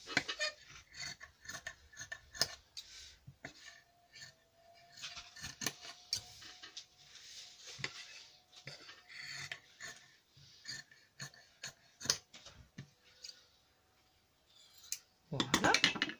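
Scissors cut through felt and fleece padding while making a fabric face mask, irregular close snips and rustles with quiet breathing and handling noises in a calm room.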